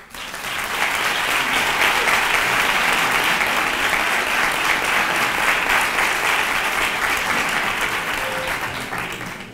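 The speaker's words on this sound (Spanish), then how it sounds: "Fuerte el aplauso para todos ellos." Dense, sustained audience applause fills a Three Kings coronation ceremony in Nerva, loud and even throughout with no break.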